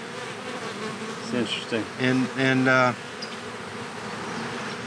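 Honey bees buzz as they move into a newly installed nucleus colony hive outdoors, a steady hum with louder swelling bursts from bees passing close by, and a brief spoken remark near the start.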